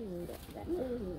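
Imported-blood fancy pigeons coo softly at close range, a few low rolling calls over quiet background noise.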